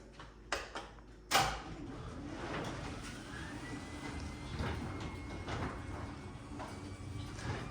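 A few sharp clicks, then a garage door on nylon rollers rolls open with a steady low rumble and faint squeaks, moderately close and continuous.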